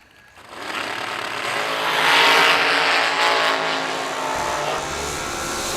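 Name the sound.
drag racing cars launching down the strip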